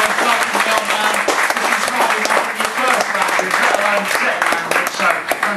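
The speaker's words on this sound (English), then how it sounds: "Does that not deserve an extra special round of applause?" Sustained audience applause fills a comedy gig after a performer's set, dense and loud throughout with scattered cheers and a host's voice faintly over it.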